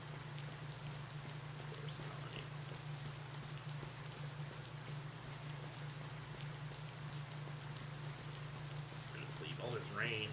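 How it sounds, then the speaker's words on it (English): Steady rain hisses continuously over a low, constant electronic hum in the video game Cattails, with no voices for the full length. "All this rain."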